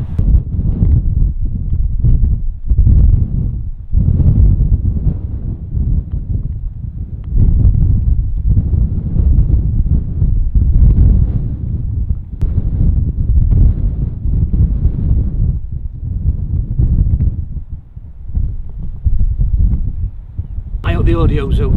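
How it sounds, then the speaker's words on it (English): Strong, blustery wind on a links golf course at Royal Portrush buffets the microphone in loud, low, rumbling gusts throughout, with a voice partly buried underneath. "The audio's okay because it's really blustery"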